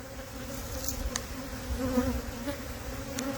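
Honey bees buzz steadily over an opened hive frame, a dense, close, continuous drone with no voices.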